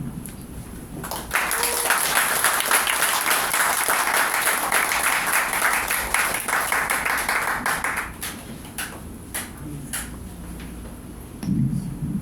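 Audience applause after a lecture in a Korean hall, a steady sustained wave of clapping that builds quickly, holds for several seconds and then thins out, with a voice briefly audible at the start and end.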